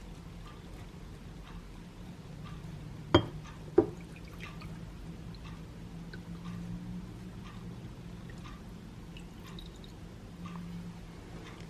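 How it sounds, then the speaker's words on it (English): Melted wax, scented with lavender, is poured into a candle, giving a faint liquid trickle with soft drips over a low background hum, broken by two sharp clinks of glass early on. "And then you just pour that into the wax into your candle."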